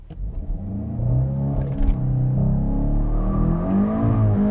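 A 2023 VW GTI 40th Anniversary with the EA888 turbo four-cylinder accelerating hard, a loud, steady engine drone climbing in pitch through the revs with a faint mid-run shift, no talk.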